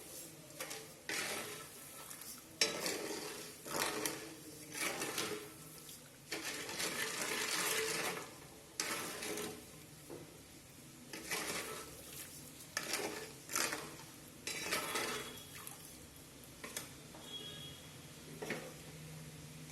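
Sugar syrup (chashni) is stirred in a pan with a spoon, giving repeated scraping, swishing strokes at an uneven rhythm, close and moderately loud, with no talking.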